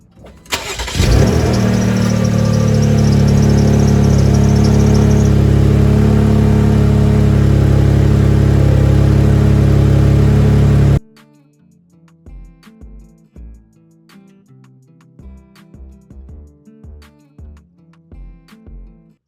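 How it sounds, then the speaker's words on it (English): A 2017 Jeep Grand Cherokee engine cranks and catches, then idles loudly and steadily for about ten seconds before cutting off, followed by quieter clicks and knocks. "So we're gonna crank the car up now"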